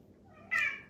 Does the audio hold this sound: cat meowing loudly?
yes